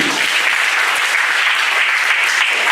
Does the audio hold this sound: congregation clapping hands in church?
yes